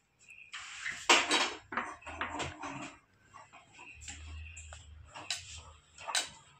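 Mashed potato filling with chilli powder, turmeric, salt and kalonji is worked by hand in a bowl, giving close, intermittent clinks, taps and squelching scrapes with short pauses between.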